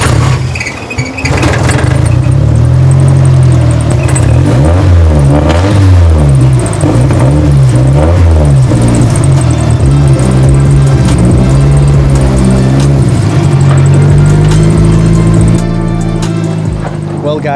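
A 1989 Nissan S13 with an SR engine swap cranks and sputters for well over fifteen seconds, its engine catching, revving unevenly and stumbling in loud, wavering bursts close by.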